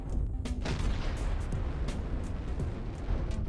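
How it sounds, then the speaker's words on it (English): A clan ammo explosion in a MechWarrior match plays as a dense, continuous rumble of booms and blasts, loud and sustained throughout. "There's that clan ammo explosion again."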